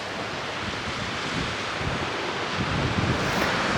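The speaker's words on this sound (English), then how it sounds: "So windy, it's the downside of being right on the seafront." Strong wind buffets the microphone on the seafront at Newton Beach near Trecco Bay, a roaring broadband rush with surf breaking underneath, steady and loud throughout with no talking.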